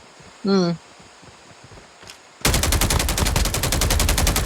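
Rapid automatic gunfire in a video game bursts in suddenly and loudly, a dense stream of shots after a short electronic chirp over a quiet background.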